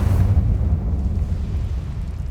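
Incendio fire spell cast in Hogwarts Legacy: a low, rumbling whoosh of flame that bursts loudly at first and then settles into a steady roaring hiss.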